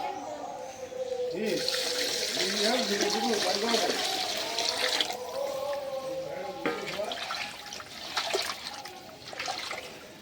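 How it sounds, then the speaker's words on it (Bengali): Water is poured into a pot of khichuri after the lentils and rice are mixed with mustard oil, a splashing, gurgling pour that starts after a moment and runs for several seconds before tapering into trickles. "এখন পানি দিয়ে দিই।"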